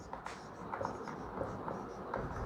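Pen scratching on paper as a teacher writes by hand, soft close strokes in short irregular bursts, faint and alone.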